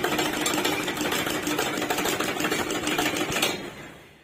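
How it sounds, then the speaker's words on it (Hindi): A sewing machine stitching curtains runs in a steady, loud, rapid mechanical chatter for about three and a half seconds, then stops abruptly, with no talking over it. "मम्मी जी आज सिलाई मशीन निकाली है और शुरू हो गई हैं अपना सिलाई करना"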